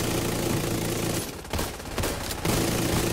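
Video game gunfire from a team shooter: a dense, continuous fusillade of rapid shots close by, briefly thinning in the middle before the heavy firing resumes, with an engine-like rumble underneath.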